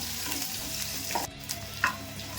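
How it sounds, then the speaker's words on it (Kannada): Onions fry in a pan for a curd sambar, giving a steady, broad sizzle close by. A few scrapes of stirring break through the frying, and no voice is heard. "ನೋಡಿ, ಇಷ್ಟು ಫ್ರೈ ಆದರೆ ಸಾಕು. ಈರುಳ್ಳಿ ನೋಡಿ ಇಷ್ಟ ಆಗಬೇಕು."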